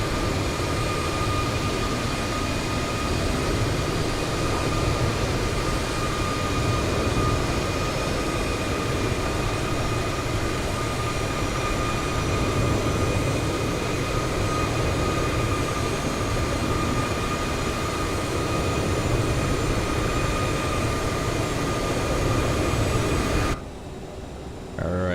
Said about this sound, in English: Alright, sounds like we got some good engine starts here.